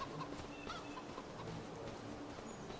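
Chickens cluck and chatter in the Farming Simulator 25 game, soft scattered calls over a low steady farmyard ambience, faint and somewhat distant throughout.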